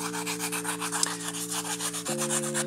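A NITRAM charcoal stick is reshaped and smoothed by rubbing, giving a rhythmic, close scraping-sanding sound with repeated strokes over a low steady hum.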